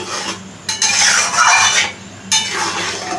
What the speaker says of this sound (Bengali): একটু হলুদ গুঁড়ো, দিয়ে এটাকে ভালো করে মিশিয়ে নিচ্ছি।